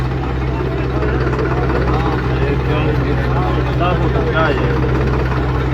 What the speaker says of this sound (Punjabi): ਪਿਛਲਾ ਟਰੈਕਟਰ ਪੂਰਾ ਜ਼ੋਰ ਲਾ ਰਿਹਾ